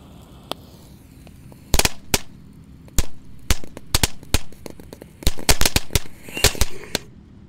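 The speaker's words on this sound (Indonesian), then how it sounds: "Lanjut yang kita nyalakan di sini ada Tank Thor guys. Kita nyalakan di depan lubang tanah." Tank Thor firecrackers set off by a hole in the ground, a rapid series of sharp, loud cracking bangs in irregular bursts, close by, with no talking.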